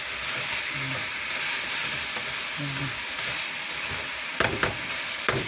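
Steamed tofu is stirred in an oily pan, giving a steady close sizzle with soft scraping strokes and a few sharp clatters of the utensil near the end.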